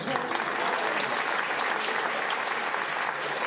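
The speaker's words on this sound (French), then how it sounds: "J'aimerais qu'on l'applaudisse très fort." Gala d'Excellence 2016 audience claps for an honoree, a soft, steady patter of many hands heard at a distance and sustained evenly throughout.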